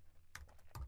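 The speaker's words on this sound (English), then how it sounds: "remember we type on the outside to not join them up and we start typing." Typing on a computer keyboard during desktop publishing work: a few quiet, scattered key clicks with two clearer taps, faint and close with no voice.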